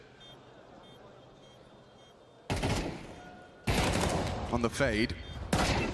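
Gunfire in a competitive Counter-Strike-style esports grand final match, with loud bursts of rapid shots arriving in two clusters after a quiet start, under a caster's excited commentary.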